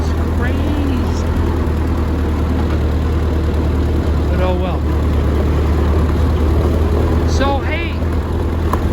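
A Ford 8N tractor engine running steadily during a ride, a constant low rumble that carries all the way through while someone talks over it at intervals.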